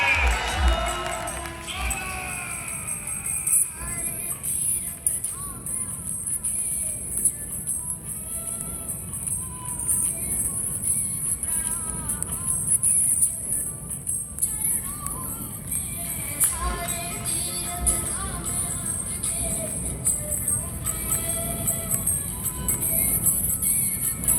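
An audience at a motivational direct-selling speech event claps for honoured guests, a sustained wash of applause and crowd noise lasting many seconds.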